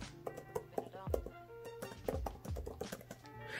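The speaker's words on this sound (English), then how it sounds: "Then the Magic Keyboard, which sounds like this." Typing on an Apple Magic Keyboard, a backlit keyboard, making a close, brisk run of crisp key taps and clacks in irregular bursts, with no talking over them.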